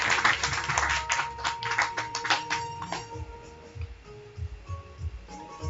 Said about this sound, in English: Can you all just put your energy to a clap?